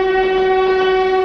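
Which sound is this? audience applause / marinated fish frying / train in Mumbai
train in Mumbai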